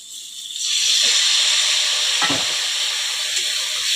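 Ground cumin, turmeric and a little chili powder fry in a pan with a loud, hissing sizzle that swells after a quiet start, broken by a brief scrape of stirring midway.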